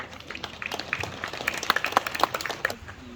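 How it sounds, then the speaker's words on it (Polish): An audience claps at a volunteer fire brigade gathering in Wadowice Dolne, scattered individual hand claps building into uneven applause, fairly close, with a voice briefly near the end. "Brawa"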